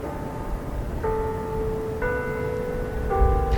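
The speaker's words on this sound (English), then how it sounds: "The bells are going." Bells near the Utah State Capitol ring out in a few clear, sustained tones that start one after another at roughly one-second intervals over faint outdoor background noise.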